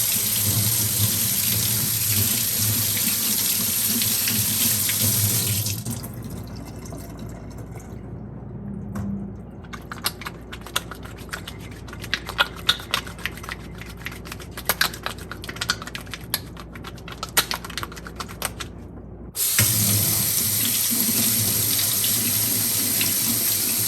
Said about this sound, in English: now that the soap is all done, we can wash our hands with it